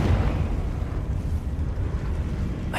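Confringo blasting spell in a video game: a loud, rumbling blast that swells and keeps roaring for a few seconds, heavy and booming, heard alone.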